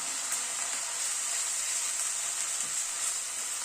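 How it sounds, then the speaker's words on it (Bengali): Ginger paste, garlic and onion sizzle steadily in a pan over a medium gas flame, a continuous close hiss with no pauses and no talking. "আদা রসুন পেঁয়াজটাকে একটু প্রথমে কষিয়ে নেব, গ্যাসের ফ্লেমটাকে মিডিয়ামে রেখে।"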